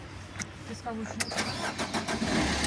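A car engine cranks and catches, settling into a rough idle while people talk over it.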